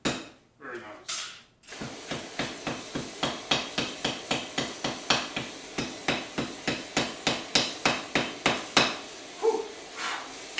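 Hammer blows forge-welding a cable Damascus billet for an everyday-carry knife, a steady run of about two dozen sharp, ringing strikes at a brisk even rhythm, close and loud, with a brief hiss at the start.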